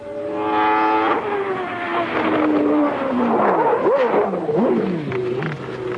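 A Formula 1 car engine at the 1989 Brazilian Grand Prix screams loudly and close, climbing through the gears in rising, falling sweeps as the car passes, with no voices over it.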